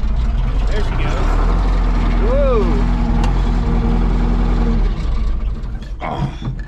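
A Caterpillar wheel loader with serious faults roars loudly with heavy low engine rumble under throttle, a rising whine sweeping upward mid-rev, then the engine note drops away near the end.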